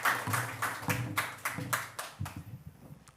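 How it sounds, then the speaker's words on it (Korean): A church congregation claps in a fairly steady rhythm to welcome a pastor forward, with soft, broad bursts of clapping that fade away after about three seconds. "나오실 때 좀 박수로 좀 환영하겠습니다."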